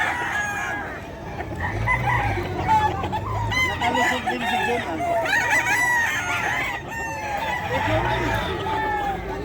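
Roosters crow repeatedly at a pet market in Bocaue, Philippines, some near and some farther off, under a busy background of clucking fowl and people talking.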